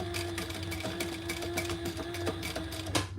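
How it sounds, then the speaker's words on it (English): Sewing machine running steadily to stitch off the end of a zipper for a wellness bag, a continuous close mechanical whir with rapid needle clatter and small bursts of louder stitching. "And then I'm just going to stitch that off"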